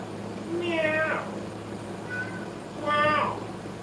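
A cat meows close by: a couple of rising, drawn-out meows with a short chirp between them, over a low background hum.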